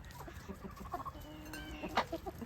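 Ducks feeding on scraps tossed from a plate onto the ground, with soft clucking and pecking calls and a few louder squawks scattered through a busy farmyard bird chorus.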